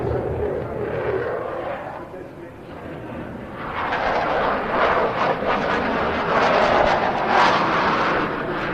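Eurofighter Typhoon jet roaring through aileron rolls into a negative-G push at the Bournemouth Air Festival, a loud broadband engine rush that swells and fades, with commentary voice over it.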